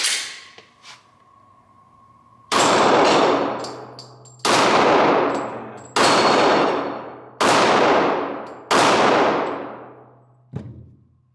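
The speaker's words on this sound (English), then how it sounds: "Glock 23 Generation 5" A Glock 23 Gen 5 .40 caliber pistol fires five loud, sharp shots at a slow, even pace, each crack ringing out into a decaying echo, with a faint clink just beforehand.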